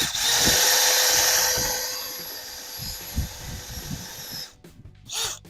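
A Dewalt DCD805B hammer drill bores a 25 mm hole at speed 1, a steady motor whine with rhythmic thumps that fades before a short burst of noise at the end.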